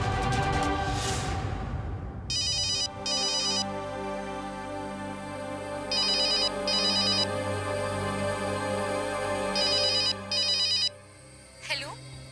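A telephone ringtone in a Hindi TV drama plays as repeated bursts of electronic ringing in several evenly spaced pairs over a steady music bed, fairly loud and clear, with no speech over it.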